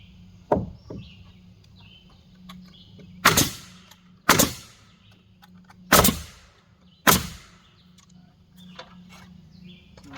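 A nail gun fires five sharp, loud cracks at uneven intervals while garage walls are framed and sheeted, each shot ringing briefly over a low steady hum and faint clatter.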